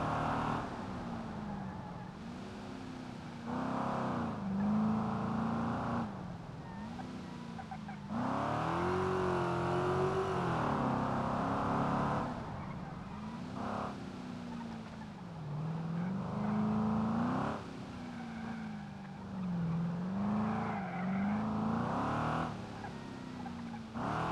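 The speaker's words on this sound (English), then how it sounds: "Now I'm just going to run the course that I normally run to kind of test out cars." A car's engine in BeamNG runs a test course, its note rising and falling in repeated waves as it accelerates and lifts off, steady and fairly close, with no talk.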